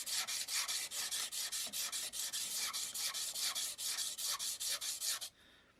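A spoon knife's inside bevel is honed and deburred with quick, regular rasping strokes, about four per second, close and crisp, ending abruptly with quiet afterward.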